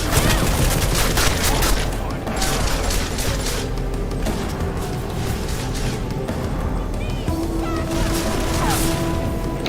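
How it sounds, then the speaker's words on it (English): Automated turret opening fire in Deus Ex: Mankind Divided, sustained rapid shots and booms running under dense game noise for the whole stretch, with a voice talking over it. "Oh, turret."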